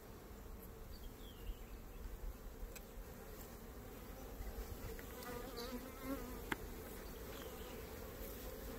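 Honey bees at a cutout hive make a steady, dense buzz that fills the air close by, a continuous hum with no talk over it.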